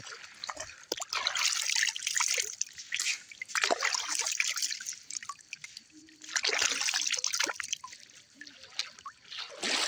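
Water runs and splashes while someone washes their face, trickling and sloshing close by in uneven bursts with brief quieter pauses between splashes.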